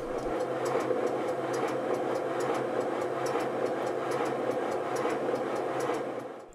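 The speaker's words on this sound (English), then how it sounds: "Here's my Stirling Single running on the bench on compressed air." A model Stirling Single locomotive runs on a workbench on compressed air, giving a steady rapid chuffing with fast regular exhaust beats and a mechanical clatter throughout, close and fairly loud, easing off at the very end.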